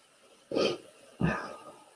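Two short, wet nasal allergy sniffles about half a second apart, close to the listener, against a quiet background.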